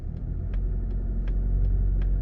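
A 2021 Mazda CX-30 Turbo S Grand Touring accelerates gently, its low steady rumble heard from inside the cabin while a soft indicator ticks rhythmically.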